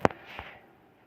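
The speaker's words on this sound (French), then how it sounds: "tu lances une boule de ki, un peu comme dans Dragon Ball" A ki blast fires in a video game in the style of Dragon Ball, a sharp burst opening the moment, then a whooshing energy sweep with a second small pop that fades out.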